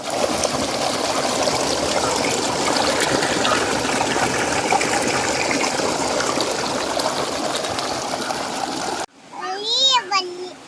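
Water pours steadily into a pot of village-style country chicken cooking with masala and salt, a continuous splashing gush that stops abruptly, followed by someone speaking.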